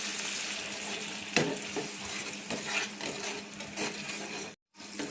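Spiced sesame paste and whisked yogurt are stirred in a pan over a low flame for til katla, making a busy frying crackle with spatula scrapes and an occasional metallic clink before a brief silence.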